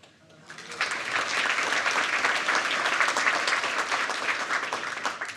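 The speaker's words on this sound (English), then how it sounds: "Keep the applause going" Applause rises quickly from a quiet start into sustained, energetic clapping from a sizable crowd at a Fort Worth city council work session, holding strong before tapering slightly at the end.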